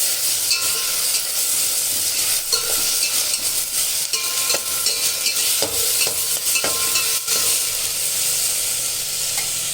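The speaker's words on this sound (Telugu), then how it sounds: "ఈ ఉల్లిపాయలు వేగాయి కదండి," Sliced onions fry in a pan, giving a dense continuous sizzle close up, punctuated by scraping strokes of a spoon stirring them, with no talking.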